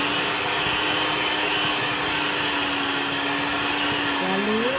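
An electric mixer beats burger bun dough at high speed, a steady loud whirring motor hum with a constant tone that bends slightly near the end, with no talk.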